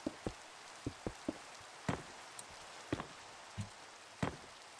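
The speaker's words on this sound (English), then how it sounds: "Unironically, I think rain is the best weather in Minecraft," Rain falls in the Minecraft video game as scattered, irregular drops and taps over a soft hiss, each drip distinct and fairly close.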